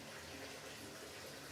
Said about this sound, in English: The faucet is open, and water is flowing.